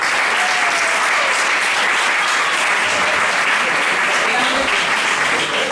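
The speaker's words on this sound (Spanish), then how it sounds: "Un aplauso, por favor." A live audience at an evening science talk about atoms breaks into sustained applause for the speaker, a loud, dense, even wash of clapping that carries on for several seconds.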